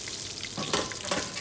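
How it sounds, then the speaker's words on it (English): Bay leaf, mace and cinnamon, with cardamom seeds, spluttering in hot oil for chicken and egg biryani, giving a brief close crackling sizzle with a couple of louder pops, no voices. "bay leaf, mace, cinnamon, and we let it splatter."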